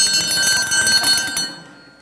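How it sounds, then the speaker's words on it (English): A metal triangle struck like a dinner bell rings out in a quick series of bright, shimmering hits for about a second and a half, then the ringing decays into silence. "This is a triangle. You know what I know it as? A dinner bell."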